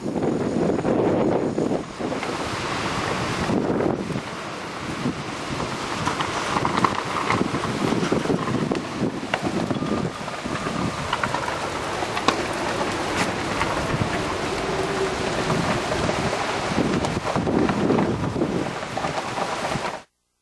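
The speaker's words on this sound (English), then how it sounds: "Tim Millar was clocking winds gusting to 70 miles per hour as the center of Gustav closed in." Strong wind from Hurricane Gustav in 2008, gusting to 70 miles per hour, roars and buffets the microphone without pause, mixed with a rushing hiss of heavy rain. No voices are heard.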